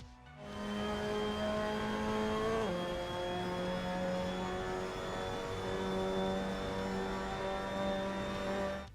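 A Mazda MX-5 Cup car laps Brands Hatch GP in Assetto Corsa, its engine holding a steady high whine with a brief downshift dip, loud and close throughout.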